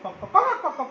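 A young child imitates a chicken with a quick burst of clucking, close and fairly loud, lasting about a second in a preschool classroom.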